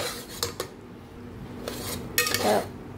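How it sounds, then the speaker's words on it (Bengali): Cooked dalia stirred in a pot, with a few sharp metallic knocks and scrapes of a spoon against the pot between quieter stretches, close and moderately loud, no talk. "ডালিয়া আমার হয়ে গেছে, একটু ভালো করে এটা নেড়ে"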